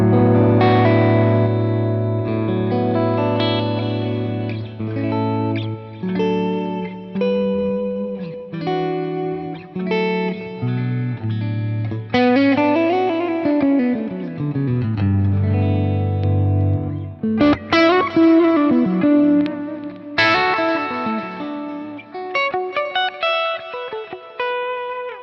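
Electric guitar through a modeled Marshall JCM800 amp on a Line 6 Helix with effects, played as ringing chords and melodic runs, sustained and reverberant, loud and continuous with no talking.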